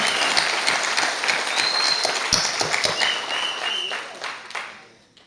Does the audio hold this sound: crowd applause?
yes